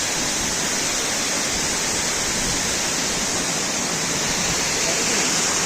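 A waterfall on a mountain trek in the Pothigai hills roars in a dense, unbroken rush of falling water, loud and close throughout.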